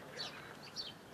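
Birds in a seaside park in Gurzuf in mid-April give a few faint, distant high chirps over a quiet background.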